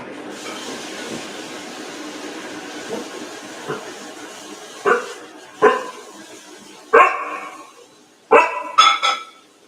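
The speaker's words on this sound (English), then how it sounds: "Why are you barking?" A dog barks several times, sharp separate woofs growing louder and closer together toward the end, over a low background rumble.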